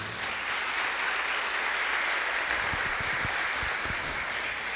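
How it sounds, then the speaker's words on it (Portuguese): A church congregation applauds during a service, a dense, steady wash of clapping that holds throughout with a few lower thumps near the end. "Dê uma salva de palmas para Jesus."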